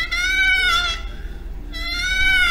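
A person imitates a cow elk call with a mouth call, giving two drawn-out, high nasal mews with a short pause between them, loud and close with no talk over them.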